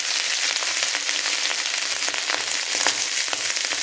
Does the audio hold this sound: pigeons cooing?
no